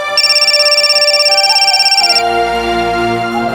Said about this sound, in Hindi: आ गया फोन दामाद जी का, जा।